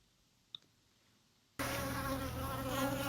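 A hum of bees buzzing around a hydration station set out for them: near silence at first, then a loud, dense, continuous buzz that switches on abruptly and stays steady to the end.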